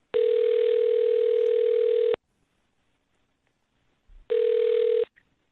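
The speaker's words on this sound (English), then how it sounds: "I'm going to dial his phone number right now" A steady telephone dial tone sounds alone for about two seconds, then cuts off; after a short silence the same tone returns briefly, with no voices.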